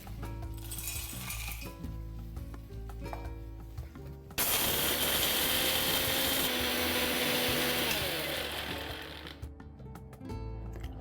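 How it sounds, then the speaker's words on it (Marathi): A kitchen mixer grinder whirs loudly for several seconds grinding whole spices, starting abruptly after quiet clinks and settling back to soft rattles afterward. "तोपर्यंत आपला खडा मसाला मी वाटते"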